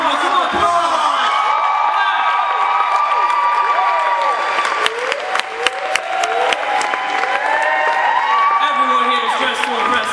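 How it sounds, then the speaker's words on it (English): A stage audience claps and cheers as contestants walk out, a steady loud wash of applause with whoops and shouts throughout, mixed with crowd voices. "give me a nice round of applause."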